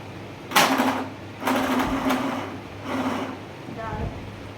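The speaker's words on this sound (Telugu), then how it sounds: "ఇప్పుడు నేను ఫుడ్ పెడల్ యూజ్ చేసి స్టిచ్ చేస్తున్నాను" A domestic sewing machine driven by its foot pedal stitches in three or four bursts of whirring and clattering, each lasting about a second with short pauses between, close and moderately loud.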